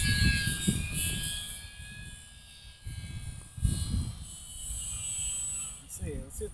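An E-flite Pitts S1-S UMX radio-controlled biplane passes by with a thin, steady high-pitched motor whine that holds and fades over about six seconds, with wind and outdoor handling noise underneath.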